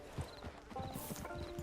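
Horse hooves clip-clop in a quick, uneven rhythm, fairly close but low in level, in the Red Dead Redemption 2 online video game, with no voices over them.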